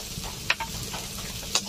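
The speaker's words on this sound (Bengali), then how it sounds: "সবকিছু দিয়ে নাড়াচাড়া করে নেব" A spatula scrapes through chela fish in a frying pan with ground cumin, green chilli paste, salt, turmeric and Kashmiri red chilli powder, steady close sizzling with a couple of sharp metallic scrapes.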